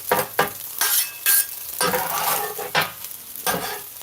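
Sweet chili pork fried rice sizzles in butter in a pan, stirred with repeated scraping strokes and utensil clinks over a steady frying hiss, close and loud.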